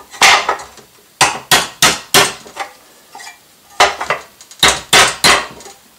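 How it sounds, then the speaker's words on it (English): A hammer strikes a metal bucket for a Huina 580 excavator while it is being knocked back into shape. Sharp, loud, ringing blows fall in quick clusters of three to four with short pauses between. "with a bit of gentle persuasion and a hammer"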